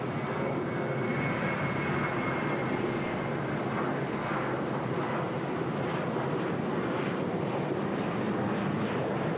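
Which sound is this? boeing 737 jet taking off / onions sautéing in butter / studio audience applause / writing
boeing 737 jet taking off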